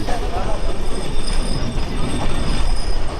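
Madhumati Express train at a railway station on the Rajshahi to Dhaka route, giving a loud, continuous rumble of rolling cars with rattling wheel noise and a thin high squeal throughout.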